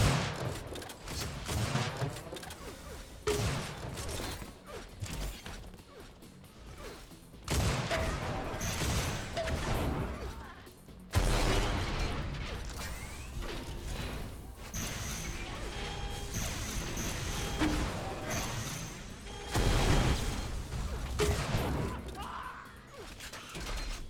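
Rocket launcher blasts and explosions in an Unreal Tournament match, with heavy bursts, crashes and clattering game action layered throughout a long busy stretch, mixed with commentary.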